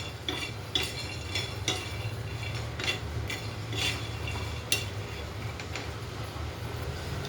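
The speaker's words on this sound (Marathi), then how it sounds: "दोन्ही एकत्र जरा हलकीशी भाजून घेऊया" Peanuts and roasted chana dal dry-roasting together in a pan, stirred with scattered scrapes and light clinks of a utensil over a steady low hum, no voices.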